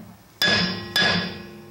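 A hammer strikes the rear brake drum of a 2005 GMC Sierra 1500 twice, about half a second apart, each blow a loud, close metallic clang that rings on briefly.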